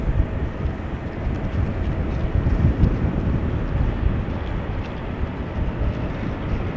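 A Boeing 787-10 Dreamliner takes off from runway 18 Left at Amsterdam Schiphol, its jet roar a steady, loud, low rumble that holds throughout, mixed with wind buffeting the microphone.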